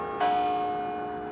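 Church bells ringing out at noon across Minneapolis and St. Paul, a sustained clear metallic tone with a fresh strike near the end, resonant and moderately distant with no talk.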